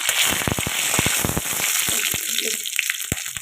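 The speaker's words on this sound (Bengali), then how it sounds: "জিরে গোলমরিচ গোটা গরম মশলা দারচিনি এলাচ তেজপাতা ফোড়ন দিয়ে দিলাম" Whole cumin, black peppercorns, cinnamon, cardamom and bay leaf tempering in hot oil in a pan, giving a steady close sizzle broken by sharp crackling pops throughout, with no talking.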